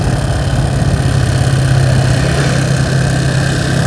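Motorcycle engine fitted with a 62mm PWK carburetor idles steadily after tuning, a loud, continuous low rumble with no talking.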